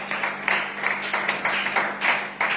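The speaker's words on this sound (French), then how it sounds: "On acclame pour la parole du Seigneur" A church congregation claps together in acclamation after a scripture reading, a steady run of close, dense hand claps with a few louder bursts, short and fairly even throughout.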